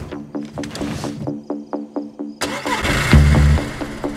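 A tractor engine in the survival game DayZ cranks with a rapid series of starter pulses, then catches and roars into a loud, steady idle, up close and with no talk over it.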